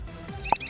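A caged coleiro (papa-capim) songbird chirps in short, high tweets, with one clear louder note near the middle, nearby and alone.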